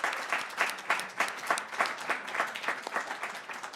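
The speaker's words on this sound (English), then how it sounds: "About a little round of applause, please, for this organizing committee." An audience at a spring talk gives a round of applause for the organizing committee: a rhythmic, fairly faint and distant patter of many hands clapping, holding steady with no speech on top.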